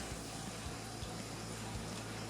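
Water flows steadily through the coil of a Navien NCB 240 boiler being purged during a new installation start-up, a constant rushing hiss with a low pump hum and faint clicks.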